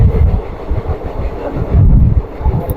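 A train rolling along a railway track on the Dharmapuri to Muthampatti route, a steady close rumble with low thumping and wind buffeting, swelling louder near the end.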